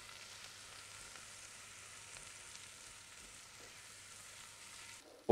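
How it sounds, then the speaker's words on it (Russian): Chopped vegetables frying in a little oil in a pot for a creamy cod and mango curry soup, a steady soft sizzle running evenly throughout, ending with a sharp clatter at the close. "Кладем наши нарезанные овощи. Обжариваем до размягчения."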